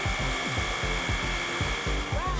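A Worx Hydroshot cordless pressure washer sprays water from a bucket through its main nozzle, its pump pulsing in a fast, regular rhythm over a continuous whine, close and fairly loud.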